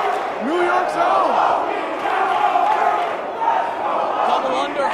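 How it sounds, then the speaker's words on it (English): Wrestling fans in an arena during a battle royal event, a crowd roaring and chanting with rising and falling cheers, sustained and fairly loud, with a commentator's voice faintly mixed in. "the fans are so appreciative. And they're cheering their man"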